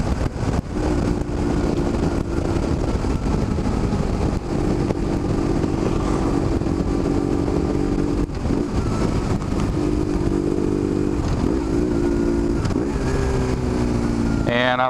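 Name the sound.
BMW R1150GS motorcycle engine with Danmoto exhaust while riding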